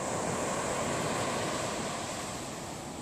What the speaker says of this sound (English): So we're taking a walk on the beach this morning.